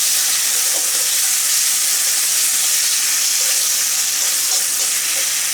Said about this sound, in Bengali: এখন আমি মশলাটা খুব ভালো করে কষিয়ে নেব।